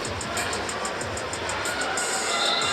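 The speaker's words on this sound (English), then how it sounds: "Crowd starting to grow restless with the refs. This is a very angry crowd" A restless, angry home crowd in a college basketball arena at the Ryan Center in Kingston murmurs and jeers in a steady, roaring wash of noise, growing slightly louder toward the end.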